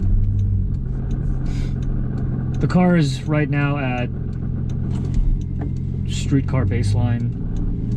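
A car with a new exhaust, downpipe and catalytic converter, tuned to hit boost, idles with a steady low engine rumble that continues beneath someone speaking close by.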